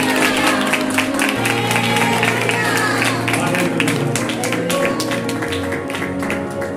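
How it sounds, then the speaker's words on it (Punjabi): A church congregation claps along rhythmically in quick, steady beats under a pastor's loud speaking, with sustained musical tones beneath. "ਹੋਰ ਤਾਲੀ ਮਾਰੋ"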